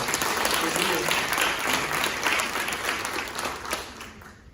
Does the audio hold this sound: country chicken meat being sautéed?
no